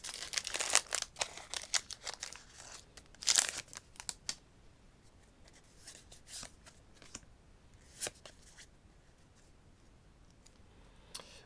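Pokémon card booster packs are torn open and cards handled, sharp crinkling rips of foil wrapper followed by soft card shuffling and clicks, close and fairly quiet with no talking.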